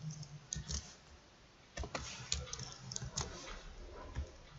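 A handful of sharp, close computer mouse clicks come in irregular short bursts against a quiet room background, with brief pauses between the clicks.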